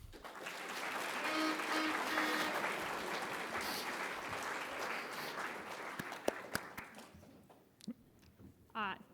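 An audience at a Python programming conference talk gives sustained applause that fades away, leaving scattered handling knocks and small thumps in a quiet room.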